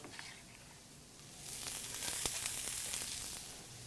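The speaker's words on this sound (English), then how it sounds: "And you want that sizzle." Chopped onions sizzling in a warm pan while cooking Mexican food, a soft hiss that swells after a quiet start and keeps crackling steadily at close range.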